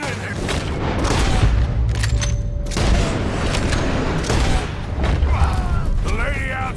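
A Red Dead Redemption 2 shootout around a barn, with repeated booming gunshots and volleys of fire going off close by while voices shout through the exchange.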